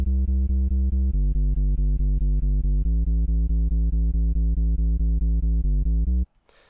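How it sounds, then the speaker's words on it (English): A Sylenth1 sub bass synth preset in FL Studio pulses in steady, even notes with a smooth, deep sine-like tone, stepping between a few pitches before cutting off abruptly near the end; no voices. "That's your sub bass."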